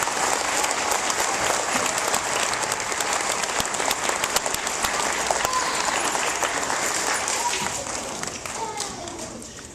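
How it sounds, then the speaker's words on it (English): Sustained audience applause at a school Veterans Day program, a steady dense wash of many hands clapping for nearly ten seconds, with scattered children's voices and crowd noise mixed in. "big round of applause to all these members"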